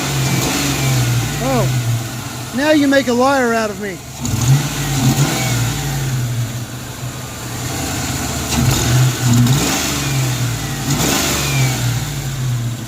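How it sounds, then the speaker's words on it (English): Engine of an old project car fitted with its factory exhaust, idling with a low, rough rumble and picking up in brief throttle blips, while someone speaks briefly over it nearby. "Give it a little throttle and..."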